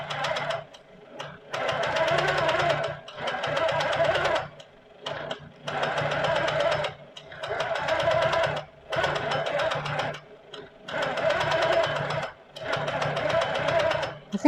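Sewing machine stitching while a thread path is traced, running in steady bursts of rapid mechanical chatter with brief pauses between, close and clear.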